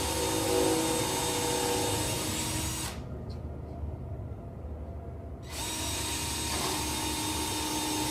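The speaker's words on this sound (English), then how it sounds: "Put it up against the corners and drill pilot holes for the screws." A power drill with a 9/64 bit bores pilot holes for screws into the corner of a wooden module frame, whining loudly in two bursts separated by a few seconds of quiet.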